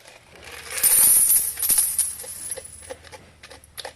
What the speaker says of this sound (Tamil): என்னடா வெறும் சில்லற காசு மட்டும் விழுவுது.